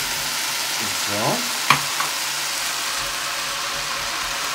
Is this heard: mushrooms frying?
yes